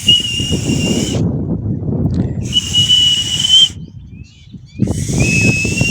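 A loud, shrill whistle blown to call a Chippiparai hunting dog sounds in three long sustained blasts separated by short gaps, over steady outdoor rumble and rustling.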